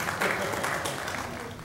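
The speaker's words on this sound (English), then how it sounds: "can I get a little light applause from the people down in front, please?" Light applause from a small group near the front at a convention opening ceremony, a soft, steady patter of clapping with speech over it throughout.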